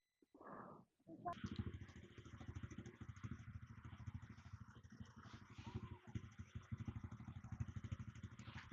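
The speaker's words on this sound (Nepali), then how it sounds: "अब दिपा राइडर सानले यहाँ बाइक चलाउनु लागेको छ" A Yamaha R1 sport motorcycle idles with a steady, regular throbbing pulse, close by, after a short voice at the start.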